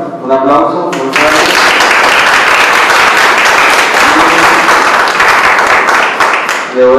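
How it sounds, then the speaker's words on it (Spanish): Audience at an academic lecture bursting into loud, dense clapping after a brief voice, sustained for several seconds before speech resumes at the end. "Un aplauso."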